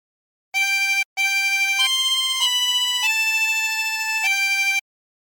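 Harmonica playing a phrase of the hymn There is a Redeemer, clear reedy single notes held one after another in a slow steady melody with a short break near the start, close and alone.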